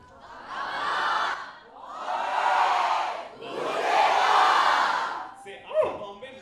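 A college crowd in an auditorium shouts a chant in three long, loud, roaring waves, each lasting over a second, before a brief sharper burst of voices at the end.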